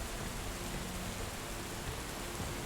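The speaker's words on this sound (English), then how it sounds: "explain to me again how it rains underground" Steady rain hisses underground inside a mining cave in Deep Rock Galactic, a dense, even wash of falling water with no pauses and no voices.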